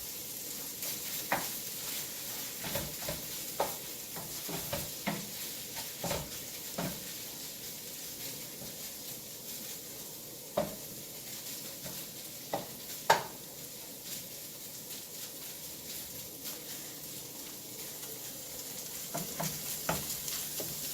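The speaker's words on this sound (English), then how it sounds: "you get a nice little sizzling sound of the chicken" Steady, quiet frying sizzle of chicken with occasional sharp clinks and scrapes of a utensil stirring in a pan, no talking.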